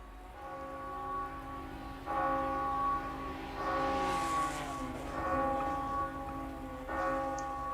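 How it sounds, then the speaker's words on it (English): A bell is rung at a Ginetta Cup motor race at Silverstone to signal a stop-go penalty. Several resonant, ringing strikes come at roughly even intervals, each decaying over a steady background. "Just in time to hear the bell of shame being rung"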